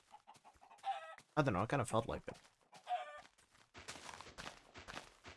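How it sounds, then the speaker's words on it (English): Chickens clucking in the Minecraft video game, short bursts of clucks and squawks mixed with a person talking briefly over them. "I'm gonna kill some chickens."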